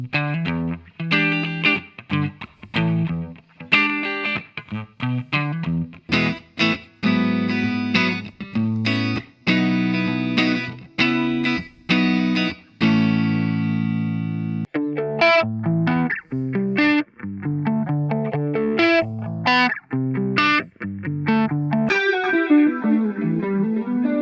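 An electric guitar through iPhone amp-app effects plays riffs and chords with heavy distortion and modulation, loud and close, ending on a ringing, decaying note.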